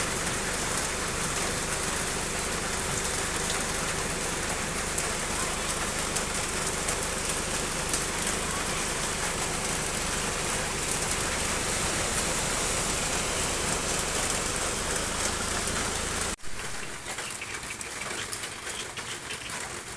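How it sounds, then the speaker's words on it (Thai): Steady rain falls over a street intersection by a market, a dense continuous hiss that stays loud and even throughout, dropping suddenly to a softer, thinner wash near the end. "ฝนตกนะคะ"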